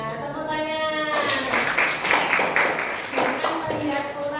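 An audience bursts into loud, sustained clapping that fills the room after a voice speaks briefly, the applause continuing steadily to the end.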